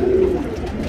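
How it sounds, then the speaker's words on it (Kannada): A bird being offered for sale gives a single brief, low, throaty coo, close and clear, with no talking over it. "ಇವತ್ತಿನ ಲಾಸ್ಟ್ ಅಕ್ಕಿ ಇದು"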